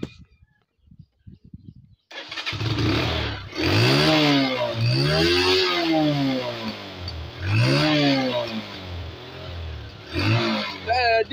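An Apsonic mini motorbike engine revs up close and loud, climbing in pitch through several repeated acceleration sweeps with a buzzing, whining tone that drops and rises again.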